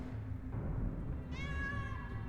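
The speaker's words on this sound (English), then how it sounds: "Meow." A cat gives a single clear meow late in the moment, rising over a low steady background hum with no talking.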